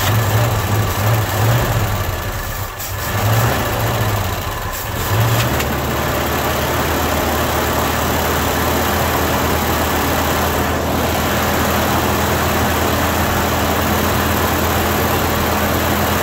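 A 1973 Ford Mustang engine idling after decades abandoned in a cow field, a loud, steady rumble that runs rough and uneven for the first few seconds before settling into an even drone.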